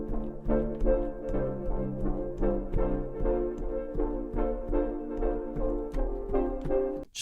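Soft synth chords played on a MIDI keyboard for a euphoric house track, a loose progression of sustained chords shifting every second or so, warm and even, with no voices.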